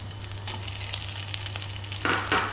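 Carrots fry in a hot pan with a soft, steady sizzle over a low hum, and two brighter bursts of crackle near the end, with no talking.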